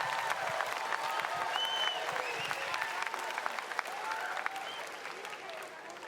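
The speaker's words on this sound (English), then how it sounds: "Can we get a round of applause for Jinx?" Audience applauding the solo winner of a Fortnite pro-am charity event at the Australian Open 2019, a dense, steady wash of clapping with cheers and voices mixed in, easing slightly toward the end.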